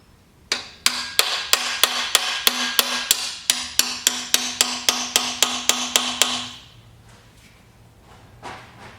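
A handle axle is driven into the pump of a Crown pallet jack with a hammer: about twenty sharp, evenly spaced metallic strikes in quick succession, loud and close, followed by quiet and a couple of faint taps.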